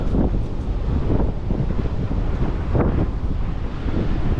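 Strong wind on a beach buffets the microphone in loud, gusty rushes, with a low roar of surf beneath and no voices.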